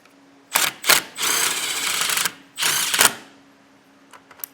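A powered driver sinks a self-tapping screw into a tail light bar for a 2015 Keystone, in loud whirring bursts: two short pulses, a long sustained run, then another run before a few faint clicks.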